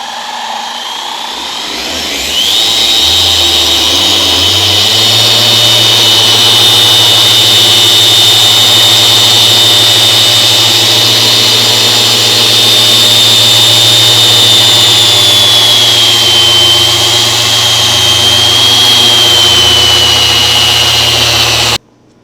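A machine polisher works the paint on a 50th Anniversary C5 Corvette during paint correction. It spins up to a loud, steady high whine that holds for about twenty seconds, then cuts off abruptly.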